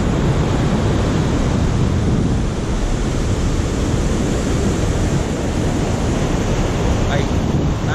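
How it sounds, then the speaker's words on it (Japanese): Ocean surf rolls in steadily at Tsujido beach, a loud continuous wash of breaking waves with a heavy low roar and wind rumble. "波をご覧ください。"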